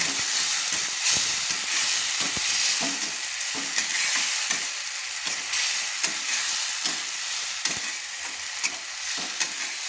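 Rui fish in poppy seed paste with green chili paste being stirred in a pan, a continuous hissing sizzle with frequent spatula knocks and scrapes, close and steady over ten seconds, no talking.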